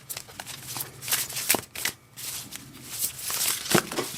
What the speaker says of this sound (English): I'm just going to finish this shuffle.